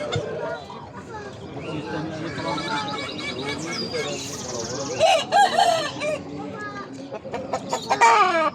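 Indian game roosters crow loudly at a busy poultry market, several drawn-out calls overlapping with clucking hens while people talk nearby.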